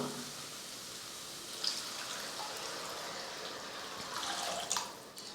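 Water pours steadily into a pan of sautéed masala for egg curry with a broad rushing hiss, swelling briefly near the end before tapering off.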